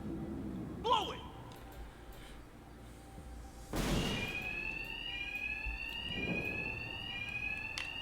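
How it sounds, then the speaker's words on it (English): Bank alarm ringing in the video game Batman Arkham Knight, a steady electronic tone that sets in after a loud burst and continues through the rest, with game voices and effects in the background. "So the bank has 2 separate alarms."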